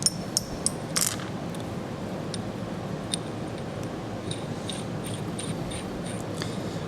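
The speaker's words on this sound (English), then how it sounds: "take your all thread and screw it into your T-nut" Small metallic clicks and ratcheting ticks come up close as threaded all-thread rod is turned into a T-nut, scattered light mechanical taps over a low, quiet background hum.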